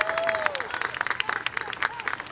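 Audience at a One Billion Rising for Justice community event applauding, a dense burst of clapping with scattered whoops and crowd murmur, moderately near and lively throughout.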